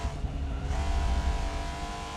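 A race car engine on slick tires in Forza Motorsport drones steadily, the sound shifting in pitch as the car dives into a corner, with no talk over it.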